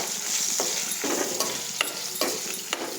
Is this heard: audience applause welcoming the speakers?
no